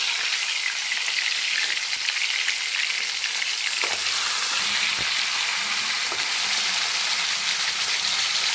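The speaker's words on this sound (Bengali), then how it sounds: "মাছের এক পাশ আমার ভাজা হয়ে গিয়েছে" Pieces of chital fish (featherback) sizzle and spit steadily in hot oil in a pan for a Bengali kalia, a loud continuous fry with occasional clinks as they are turned.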